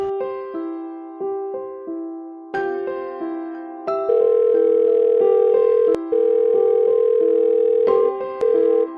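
A telephone being dialled, heard as a close, loud run of steady electronic tones that step between different pitches, with short gaps and no voices.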